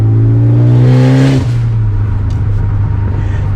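A 2015 Ford Focus ST revving up through a gear, then settling into a steady engine drone after the shift, heard loud and close from inside the cabin.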